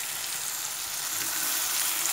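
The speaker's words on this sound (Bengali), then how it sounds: "আমি এর মধ্যে বাটা মশলাটা দিয়ে দিচ্ছি" A ground paste of cumin, chili, ginger and garlic fries in hot oil, giving a steady, close, bright sizzle that swells slightly toward the end, with no voices.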